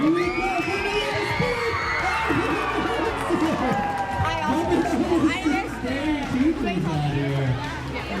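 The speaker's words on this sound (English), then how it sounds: "let's get real loud for my good friend, Kyler Martin." A school crowd cheers and shouts loudly and continuously for a BMX rider at a school show, with children yelling and a voice talking over the din.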